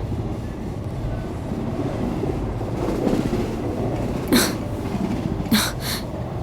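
A moving passenger train bound for Shirdi gives a steady low rumble and rattle of rolling carriages, with a few sharper clanks and squeals rising briefly near the end, and no voices.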